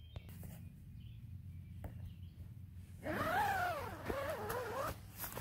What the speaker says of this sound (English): Nice waterproof zipper.